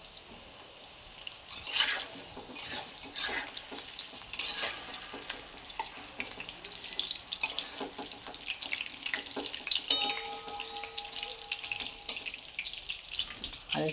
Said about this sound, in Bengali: এখানে আমি প্রথমে আগে লাল লাল করে আলুটাকে ভেজে নিচ্ছি